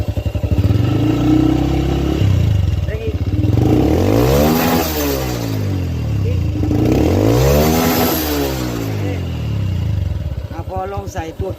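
A motorcycle with a TP Moto aftermarket exhaust pipe fitted without its silencer insert is started and revved hard several times, producing a loud, raw, rising and falling roar up close, with voices talking over it.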